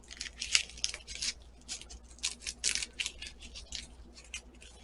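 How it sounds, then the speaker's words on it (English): Scissors snip through dried chilies in a quick, close series of crisp, papery cuts and crackles, fairly faint and with no talk. "Snip it off. Cut it down the seams here."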